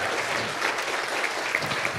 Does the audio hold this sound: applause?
yes